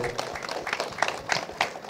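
A meditation program audience applauds, a brief burst of scattered hand claps at moderate distance, with a voice speaking over it.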